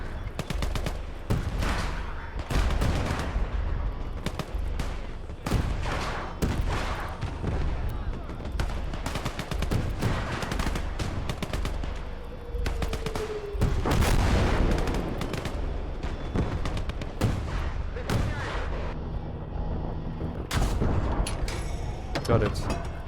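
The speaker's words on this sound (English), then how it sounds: "We'll put some artillery on the ground here." Artillery and gunfire in the World War II strategy game Call to Arms: Gates of Hell, a USSR versus Germany battle, with repeated sharp booms and crackling bursts of shots scattered across a dense battle soundscape.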